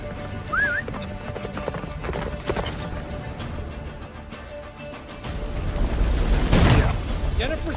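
A horse gallops through a snowy blizzard in The Witcher 3, hooves clip-clopping rhythmically up close with a whinny, wind and game effects swelling near the end.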